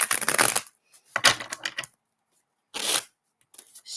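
Deck of tarot cards being shuffled by hand in three separate bursts of crisp, rapid riffling and flapping, close up and alone, with short quiet gaps between them.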